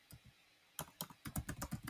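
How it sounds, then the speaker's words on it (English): Typing on a computer keyboard while working in a design editor: a couple of isolated keystrokes, a brief pause, then a quick run of close, crisp key clicks in an irregular rhythm, with no talk. "let's type in here"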